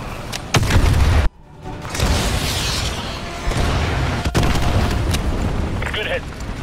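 AGM missile strikes in the Call of Duty Modern Warfare 2 campaign land as a loud, deep boom followed by a sharp cut and then a sustained rumbling roar with further distant impacts.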